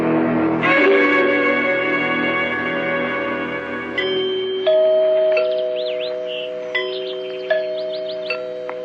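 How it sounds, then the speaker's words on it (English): Tower-style bell chimes ring in a radio drama scene, a sequence of clear sustained tones struck one after another, each ringing out and overlapping, loud and close with no talk over them. "Did you hear the chimes?"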